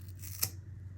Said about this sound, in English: I'm going to take my scissors and I'm just going to go into the cardboard